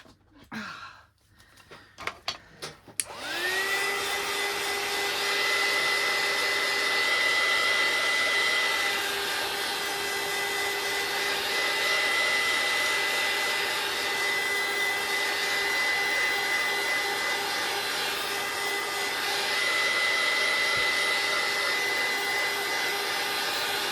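A hair dryer blows steadily and loudly for about twenty seconds, drying a mixed media altered envelope craft with a woodland fairy theme, after a few brief handling knocks at the start.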